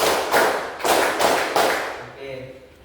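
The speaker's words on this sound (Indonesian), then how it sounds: "Tepuk 1, tepuk 3, tepuk 3, tepuk 2, tepuk tangan." A class claps hands together in a counted pattern during a coding and AI lesson, loud near claps landing in a rhythmic sequence while voices chant along, then fading out.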